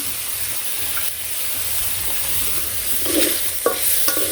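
Fish frying in oil with turmeric in a village kitchen: a loud, continuous close sizzle and hiss, with some stirring scrapes and clinks near the end and no speech.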